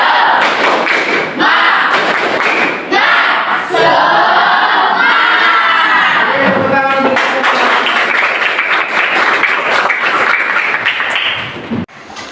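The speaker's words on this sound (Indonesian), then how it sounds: "Kita bareng-bareng semuanya tepuk semangat" A classroom of students chanting and clapping together in a 'tepuk semangat' rhythm, loud dense crowd voices mixed with rapid claps and thumps throughout.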